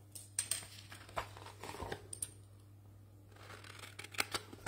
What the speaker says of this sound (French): je vais venir maintenant couper les deux petits rectangles en haut